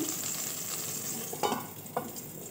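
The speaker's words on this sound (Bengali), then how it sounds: "তো একে একে দেখো এইভাবে আমি ভেজে নিচ্ছি।" Eggs frying in a pan produce a continuous close sizzle, broken by two brief scraping stirs or turns of the food, without any speech.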